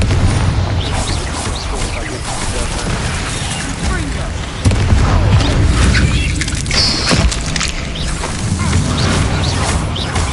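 A Bombarda blasting spell in the video game Hogwarts Legacy goes off as a dense, rumbling burst of booms and crackling debris amid game effects, with voices speaking over the din.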